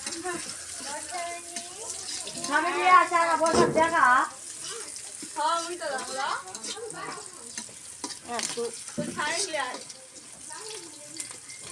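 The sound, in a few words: potato and pointed gourd frying in a pan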